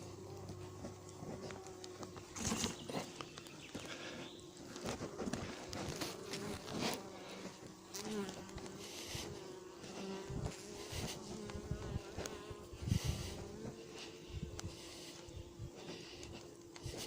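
A honeybee swarm being hived hums continuously with a dense, layered buzz, close and steady, with occasional bees zipping nearer and a few light knocks and taps.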